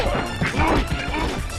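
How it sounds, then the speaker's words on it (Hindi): Several men beating someone up in an animated Hindi story, heard as a burst of loud smashing thwacks and crashing impacts packed closely together, without speech. "सब आदमी उसकी धुनाई कर देते हैं।"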